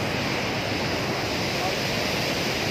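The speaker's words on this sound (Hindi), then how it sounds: "ये आप देख सकते हैं, ये है कुट्टन वाटरफॉल।" Kutton waterfall in Neelum Valley, Kashmir, roars as a steady, loud broadband rush of falling water, close and continuous with wind buffeting the microphone throughout.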